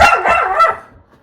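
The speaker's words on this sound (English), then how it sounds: "I've got a new dog" A dog gives two quick, loud barks close by, the second trailing into a short fading tail, with no voices.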